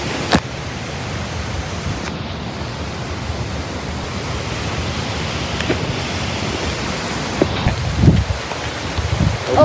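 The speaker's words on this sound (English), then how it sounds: "Starting to rain." Rain beginning during a violent Ohio thunderstorm, a steady broadband wash of falling rain and gusting wind that stays loud and continuous, with a few brief sharper bursts toward the end.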